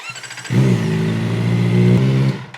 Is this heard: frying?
no